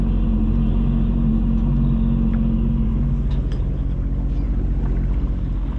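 A 2023 Sea-Doo GTI SE 170 jet ski backs up under throttle, its engine a loud, steady, close drone and rumble that holds throughout without any speech.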